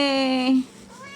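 A single clear, drawn-out meow from a hungry house cat, loud and close, sliding down in pitch before fading, with faint room sound behind it.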